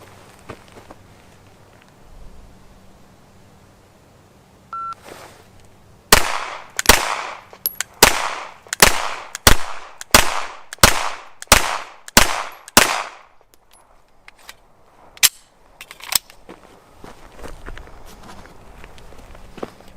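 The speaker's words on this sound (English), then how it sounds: "So, shooting Ventura Munitions 115 grain." A Canik TP9SFL pistol fires 115-grain Ventura Munitions rounds on a timed drill, about ten sharp, loud shots in a quick, even rhythm, followed by a few fainter scattered clicks and clatters.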